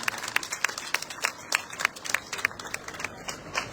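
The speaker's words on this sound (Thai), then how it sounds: "ขอเสียงปรบมืออะไรสักครั้งหนึ่งนะครับ" Audience applause after a traditional Thai fon dance performance at a Chiang Mai city celebration, with sparse, distinct claps from a modest crowd rising and falling irregularly, fairly distant and moderately quiet.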